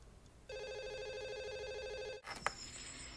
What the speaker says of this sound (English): he receives a call from Billy himself